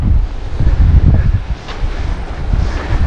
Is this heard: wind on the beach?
yes